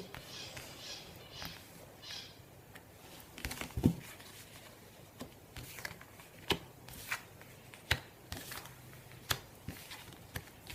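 Tarot cards being shuffled and laid out on a table, soft riffles and papery slaps coming in irregular bursts, quiet and close, with a few sharper card snaps and light handling noises between them.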